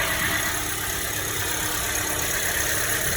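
A car engine idles steadily with a broad, even hum and faint knocking texture, running alone at close range with no talk.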